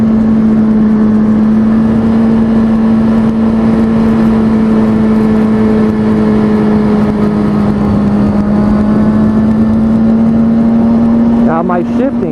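A car's engine gives a loud, steady hum that drops slightly in pitch and then climbs again as the gears shift during acceleration.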